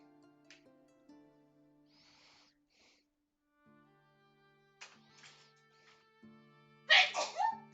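A single sharp sneeze bursts out near the end after a long stretch of quiet, with soft tonal background hum and faint small noises before it.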